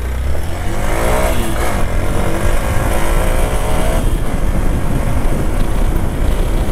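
A Hero Xpulse 200 motorcycle pulls away from a standstill at full throttle, its engine revving hard and climbing steadily in a loud, continuous roar close to the microphone throughout.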